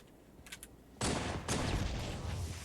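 Magnum pistol gunfire in Halo 3 Infection on the Blackout map: a few faint, distant pops come first, then a loud, dense burst of shooting erupts and keeps going.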